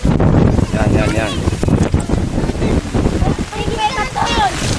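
Strong wind buffets the microphone in a steady roar while voices talk and shout over it outdoors.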